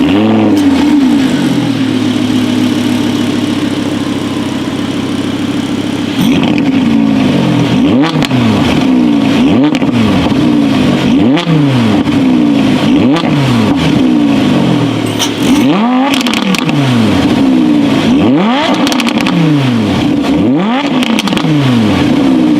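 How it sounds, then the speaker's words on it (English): A 2017 Audi R8 V10 plus coupe with its exhaust valves opened revs hard, its V10 rising and falling in repeated loud blips close by, first held steady and then pulsing in rapid swells, with no talk. "an exhaust button located on the steering wheel, which would open up the exhaust valves to let out a much more brutal sound"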